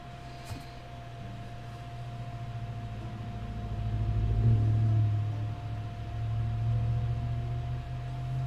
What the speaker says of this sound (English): There goes a truck up the road.